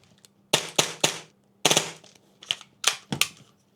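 A Krytac MAXIM9 airsoft pistol fires close up, sharp snappy cracks coming in quick doubles and triples with short pauses between bursts, about ten shots in all.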